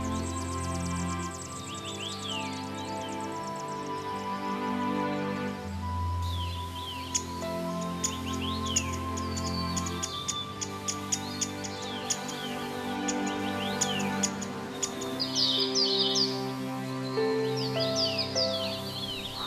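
Small birds chirp and twitter in mountain habitat during breeding season; quick, bright calls repeat against a sustained tonal backdrop throughout.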